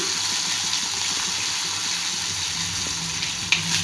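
Ginger, tamarind and green chillies sauté in hot oil in a pan, giving a steady, close, even sizzle that barely changes and holds through to a small clink near the end.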